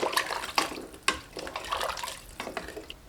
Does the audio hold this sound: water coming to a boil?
yes